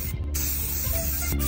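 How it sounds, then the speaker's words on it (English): A steady, close hiss of an aerosol spray can runs continuously for over a second, with a brief sputter near the start. "Now grab some spray paint."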